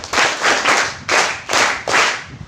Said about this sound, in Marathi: एकदा जोरदार टाळ्या द्यायच्या